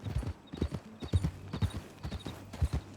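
Horse hooves clip-clop steadily in Red Dead Redemption 2, a quick rhythmic gait of sharp low thuds close by, carrying on without pause through the moment with no talk over it.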